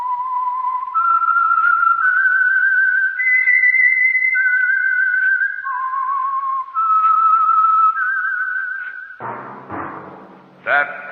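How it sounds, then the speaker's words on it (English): A lone melodic whistle, the theme of The Whistler radio drama, rises and falls through a clear sequence of sustained notes, then gives way to a short burst of thumps and noise at the end. "That whistle is your signal,"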